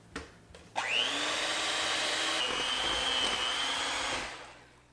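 An electric hand mixer whirs steadily as it beats eggnog icing for cookies, starting abruptly after a few light knocks and holding a loud, even motor drone with a high whine for about three seconds before tapering off.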